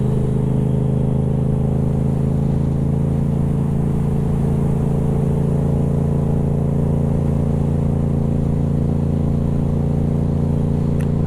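A motorcycle engine hums loudly and steadily as a beginner rider leans the bike through a turn, a constant mid-pitched drone with wind rush and no clear revving.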